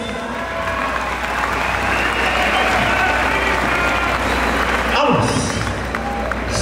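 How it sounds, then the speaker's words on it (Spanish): A large crowd at a tournament final applauds loudly and steadily for three finalists, a dense wash of clapping with faint cheering, sounding close and sustained. "Un fuerte aplauso para los tres finalistas."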